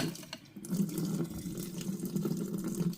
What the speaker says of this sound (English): This one finished first, so I'm going to drain it first.